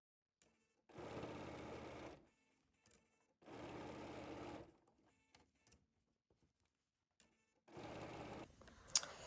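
A sewing machine top stitching quilt binding runs in three steady bursts of a couple of seconds each, separated by near silence with faint handling clicks, close and clear, with no voice.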